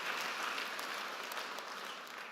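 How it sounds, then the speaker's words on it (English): An audience at a university graduation ceremony gives a round of applause, steady dense clapping filling the hall throughout before tapering slightly. "Let us give Professor M.J. Taule a round of applause for those wise words"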